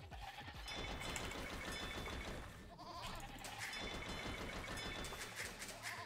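Goat bleating from an Age of Empires II match, sounding among dense, continuous game music and effects that fill the whole stretch with steady loudness.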